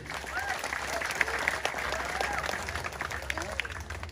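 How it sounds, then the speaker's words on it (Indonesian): Crowd applause at a nighttime Calonarang temple performance in Bali, a continuous mass of clapping with voices, shouts and whistles mixed in throughout. "Tepuk tangan dulu niki"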